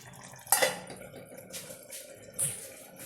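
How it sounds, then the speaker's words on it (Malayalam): Cooking pot being covered with a lid while pumpkin masala cooks in a home kitchen: two sharp metallic clinks about two seconds apart with softer scrapes between, close by, no speech. "അടച്ചു വയ്ക്കുകയാണ്."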